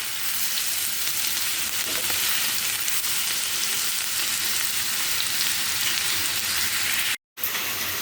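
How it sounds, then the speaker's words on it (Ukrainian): Cabbage sizzles steadily in a hot frying pan, a constant crackling hiss close up, broken by a brief moment of silence near the end. "Хай обжарюється трішки."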